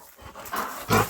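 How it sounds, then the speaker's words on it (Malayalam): Dogs bark in short bursts at close range, with a loud final bark after a couple of softer yelps in a brief moment. "അവിടെ നായക്കൾ."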